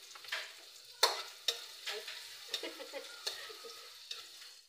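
Garlic sizzles and fries in a pan, with sharp clinks of a utensil stirring against the metal at irregular intervals over a steady crackle.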